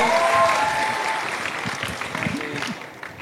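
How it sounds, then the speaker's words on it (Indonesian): Law faculty students at a university public lecture burst into loud, dense applause that gradually thins and fades, with faint voices underneath. "Tepuk tangan mahasiswa Fakultas Hukum"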